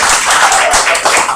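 An open-mic comedy crowd claps briefly, a short dense patter of many hands applauding close by.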